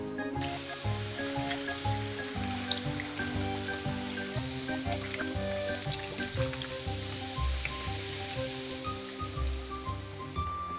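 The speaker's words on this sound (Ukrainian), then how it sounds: "Заливаємо все пивом." Light beer poured over a duck and apples in a roasting dish gives a faint, continuous fizzing trickle and splash, quiet and close with no voices.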